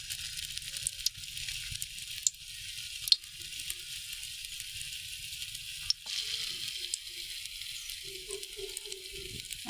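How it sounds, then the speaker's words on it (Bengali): Besan-coated sweet pieces fry in hot oil, a faint steady hiss of sizzling that runs throughout with a few soft clicks, and gentle thumps near the end. "মিষ্টিটা এই বেসনের সাথে এভাবে মাখিয়ে আমরা তেলে ভাজতে দেব।"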